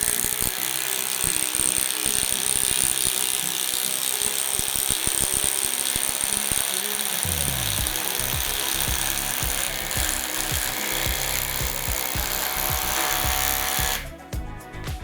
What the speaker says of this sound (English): I'm going to drive a 4" by 1/2" lag into the end grain of this pressure-treated 6x6